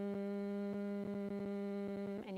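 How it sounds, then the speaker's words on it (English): A person does yoga bee's breath, exhaling in one steady, low buzzing hum held close and unbroken for a couple of seconds. "And all it is it's making a buzzing sound."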